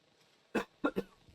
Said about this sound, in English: Yes, you're making me cough.